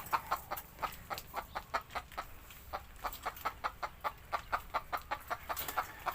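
Old roosters, three of them tied beneath a tree at a rural Thai home, give a continuous run of quick, regular clucks, nearby and clear, with no voices.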